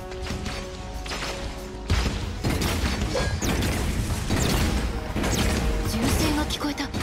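Gunfire and sharp mechanical impacts in the mech battle game Super Mecha Champions, with repeated loud cracks and crashes over a busy, rumbling game soundscape.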